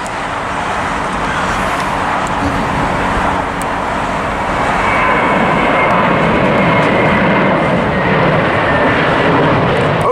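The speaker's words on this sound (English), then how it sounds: "JetBlue taking off." JetBlue jet airliner takes off from LAX on a windy day, a loud broad roar of jet engines that swells and holds steady, with wind noise and a faint traffic hum behind it.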